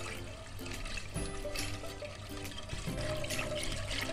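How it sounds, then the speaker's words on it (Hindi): Water is poured into a sauce in a cooking pan, giving a steady, continuous splashing and gurgling that runs for several seconds at moderate loudness with no talk. "इसमें मैंने पानी डाल दिया"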